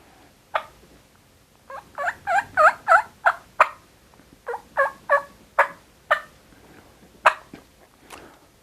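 A turkey call imitates a hen, giving a series of soft yelps: short, evenly spaced notes in loose clusters, fairly close and quiet.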